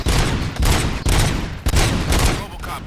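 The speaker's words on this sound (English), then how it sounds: "Gunshots? What's going on?" Heavy gunfire from the RoboCop Rogue City video game, with dense, rapid bursts of automatic shots close by and loud throughout.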